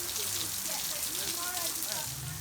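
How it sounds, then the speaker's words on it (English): Heavy rain pounds steadily on a roof at Kasanka, a dense continuous hiss and patter filling the whole stretch, with a few faint bird calls and murmurs in the background. "it's hammering down with rain"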